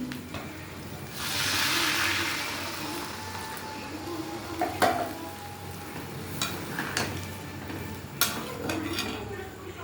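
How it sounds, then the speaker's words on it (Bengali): Water poured into a pan of frying eggs with spices, making a rising hiss and sizzle, followed by stirring and scraping with scattered clinks of a utensil against the pan. A voice speaks faintly underneath. "এবার এর মধ্যে জল দিয়ে দিচ্ছি"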